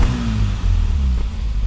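A Mini 1.3 MPI 40th anniversary edition engine revs hard with a raspy, trumpet-like exhaust, loud and close, holding a steady throaty drone throughout.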